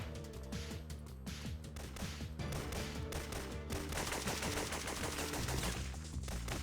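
Continuous gunfire in the Syphon Filter video game, set in a subway: rapid automatic bursts and overlapping shots, loud and dense throughout without pause, and no talk.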